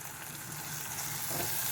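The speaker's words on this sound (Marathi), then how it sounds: "हळद चांगली परतून घेऊया।" Turmeric frying in oil with softened onion and tomato in a pan, a steady soft sizzle running throughout with a slight rise toward the end.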